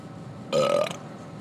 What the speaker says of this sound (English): That was a pathetic burp.